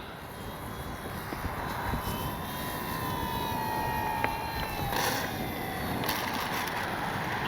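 FMS PC-21 Pilatus RC plane flying in wind, a faint, steady engine whine with slowly shifting pitch, heard at a distance over constant wind rumble.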